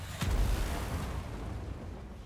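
A Hell Cannon being zapped in the Total War: Warhammer 2 video game gives a single deep, rumbling blast with a sharp onset, followed by a low, fading roar under a steady battle-noise bed.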